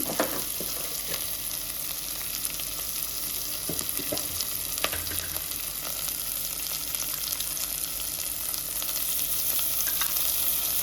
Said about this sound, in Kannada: ಇದಕ್ಕೆ ನಾನೀಗ ಶುಂಠಿ ಬೆಳ್ಳುಳ್ಳಿ ಪೇಸ್ಟ್ ಹಾಕೋಣ.